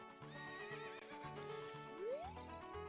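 A horse in The Legend of Zelda: Ocarina of Time gives a loud whinny with rhythmic hoofbeat clip-clops, set against layered game music and effects.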